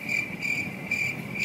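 Male crickets chirp in steady, evenly spaced pulsed trills, close and clear against a quiet background.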